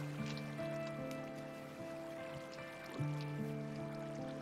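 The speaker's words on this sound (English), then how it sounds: "This is gonna be a beautiful waterfall." Waterfall water flows in the video game Minecraft, a quiet steady trickling stream that runs throughout, mixed with sustained tonal game music.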